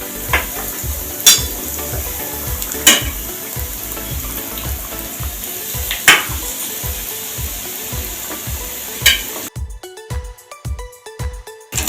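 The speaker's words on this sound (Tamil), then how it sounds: "இப்போ எண்ணெய் காஞ்சிடுச்சு. இந்த ரொட்டி துண்டுகளை இதில் போடணும்." Bread slices coated in rusk crumbs frying in hot oil for potato toast, a steady close sizzle with occasional clinks of a utensil against the pan, the frying cutting out near the end as sharper pan knocks follow.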